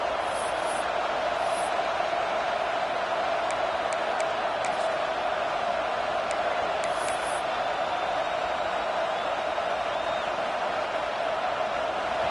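A steady, dense roar of a large college football stadium crowd on third down holds at an even level throughout, with faint higher whistles or shouts scattered above it.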